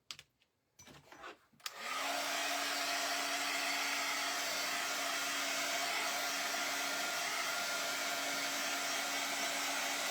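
A hair dryer blows on a paper craft book, switching on after a few brief clicks and then roaring in a loud, steady, close whoosh with a constant motor whine.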